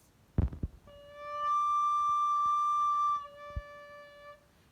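A recorder played on low D but blown too hard gives a loud, shrill overblown tone, held steady for about two seconds, then slides back to a thinner lower note. A few soft clicks come before it.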